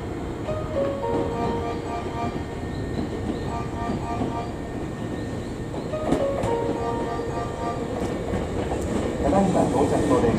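A Hankyu 9300 series train rumbles and clatters into Katsura Station, wheels squealing faintly near the end, while a public-address voice announces the train terminates there.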